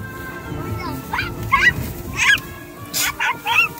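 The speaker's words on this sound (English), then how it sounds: "Wait, I hear some birds." Geese honk near the water by a boat outing, a few short calls in separate bursts over faint background noise.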